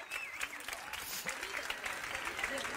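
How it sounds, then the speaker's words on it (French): An audience at a French motivational conference breaks into sustained applause. The clapping is dense and continuous throughout, and a voice speaks over it. "On peut l'applaudir?"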